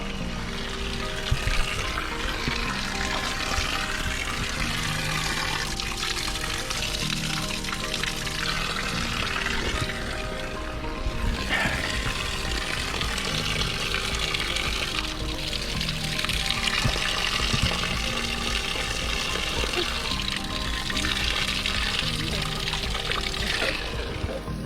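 A waterfall along the trail to Blue Mountain Peak in Jamaica pours down in a loud, steady, unbroken rush of water that fills the whole stretch.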